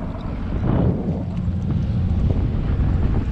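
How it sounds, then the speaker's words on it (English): Cajun 2100 boat motor running steadily on open water, a loud continuous low rumble blended with heavy wind buffeting across the microphone throughout. "Motor's been running for a little bit."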